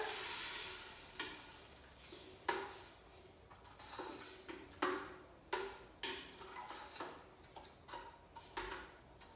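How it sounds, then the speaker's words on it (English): A spoon stirs bolognese sauce in a pot, giving a run of soft scraping strokes and light clinks at a steady rhythm, close and fairly quiet over a faint simmering hiss. "We stir."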